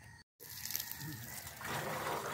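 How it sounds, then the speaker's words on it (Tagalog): Water gushes steadily into a 16-liter sprayer tank being filled for organic spraying, a close, continuous splashing fill that grows louder after a brief gap. "Then lalagyan na po natin ng tubig,"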